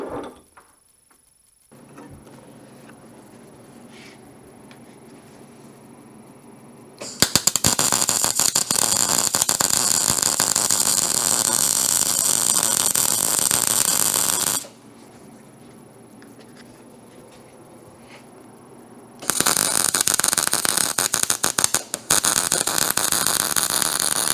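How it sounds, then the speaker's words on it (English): A wire wheel strips protective coating from a 5/8 long bolt in a workshop, two loud sustained bursts of harsh broadband grinding separated by a quieter stretch of motor hum. "I'm just going to go ahead and wire wheel this protective coating off this 5/8 long bolt"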